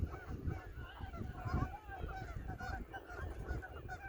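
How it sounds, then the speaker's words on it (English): Canada geese honk repeatedly near Millerton Lake, a busy chorus of overlapping nasal calls at moderate distance with outdoor background noise and occasional faint voices. "Canada geese."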